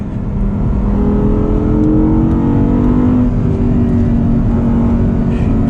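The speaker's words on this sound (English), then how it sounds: "manual transmission, V10 engine, and it's also mid-engine." Loud, close engine roar as a manual, mid-engine Audi R8 V10 accelerates, the pitch climbing steadily through a gear, then settling into a sustained high-revving drone.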